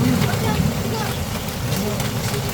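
A dense, constant patter of hailstones drums on the metal roof of a camper van overhead during a heavy storm, loud and close, with a hollow rattling roar throughout.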